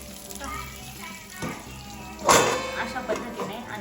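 Fish fries in a pan of hot oil, giving a steady crackling sizzle with a brief louder burst of spattering midway, while talk and children's voices carry on over it in a home kitchen.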